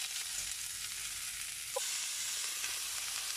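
Beetroot and carrot cooking in a pan give a steady, fairly quiet sizzle with soft stirring scrapes, and one brief tap partway through, with no talking.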